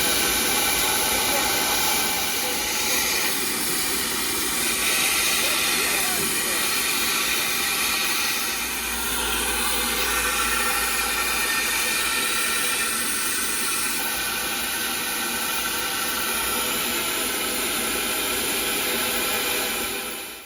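Two 0-6-0 industrial saddle tank steam locomotives double heading up a heritage railway line, giving a steady loud roar of steam and hiss that runs continuously throughout, with a deeper rumble swelling midway.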